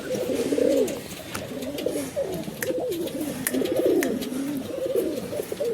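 Pigeons offered for sale coo repeatedly in soft, throaty rolling calls, several birds overlapping close by, with faint clicks and background noise and no talking.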